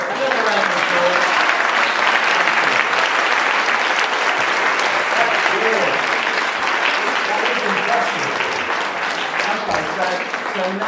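A conference audience gives steady, dense applause lasting about ten seconds, with a voice speaking briefly over the clapping near the end.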